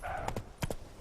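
Hooves of Roach, a horse in the video game The Witcher 3, clip-clopping in a few quiet, separate steps over about a second.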